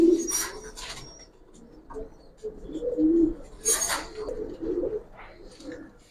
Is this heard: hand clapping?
no